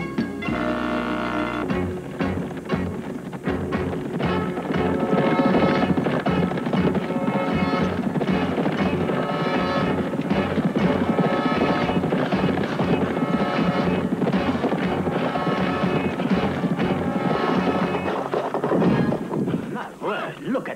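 Coach horses' hooves clip-clop steadily along a road for about twenty seconds, mixed under a dense bed of music and voices in a 1973 Count of Monte Cristo drama.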